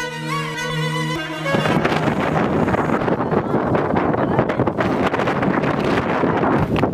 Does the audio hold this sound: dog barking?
no